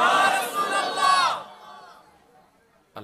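A large gathering at a religious talk roars back a chanted slogan in unison, a loud, sustained shout that fades out after about a second and a half, followed by quiet.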